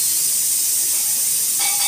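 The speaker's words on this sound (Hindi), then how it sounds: "यहाँ हमारे दाल के लिए तड़का लग रहा है, प्याज हम फ्राई कर रहे हैं।" Steady high sizzling hiss of onions frying in hot tempering oil for dal, continuous and close, with a faint tonal hum joining near the end.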